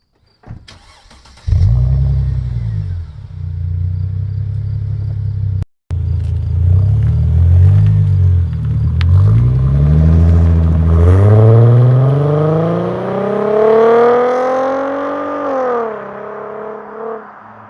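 A Mercedes W211 AMG fires up with a sharp crank, then settles into a loud, deep idle. After a brief cut, the engine revs, rising and falling, then climbs steadily as the car pulls away.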